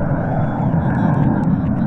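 Steady, loud propeller drone of a water-dropping RC airplane flying nearby, holding a constant buzzing tone throughout with no pauses.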